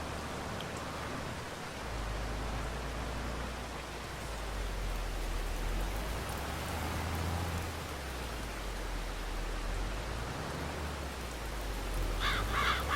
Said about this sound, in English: Oh, here's the rain.